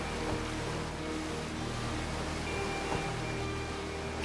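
Waterfall in the Outer Wilds game, a steady broadband rush of falling water that holds evenly throughout, fairly loud and with no voices over it.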